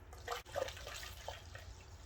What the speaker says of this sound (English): And just pour in your coolant